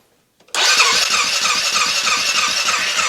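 A Polaris Sportsman 500 ATV engine cranks over with the throttle wide open during a compression test, its starter whirring loud and close in a steady rapid chug after a brief click, with no firing.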